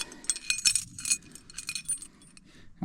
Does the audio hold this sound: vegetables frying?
no